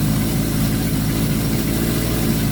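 A Suzuki GS1000 motorcycle engine idles with the choke on, a steady, close, low rumble with a faint uneven pulse and no talking.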